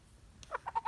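A rooster held during a household puja gives four short, clipped clucks in quick, even rhythm. The clucks are close and clear against a quiet background.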